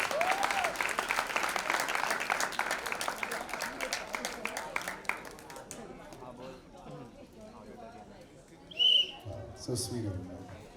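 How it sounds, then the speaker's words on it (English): A college audience at a promotional event claps in a dense, loud burst of applause that fades out after about five seconds, leaving murmuring voices and a brief sharp sound near the end. "Come on, let's give a big round of applause."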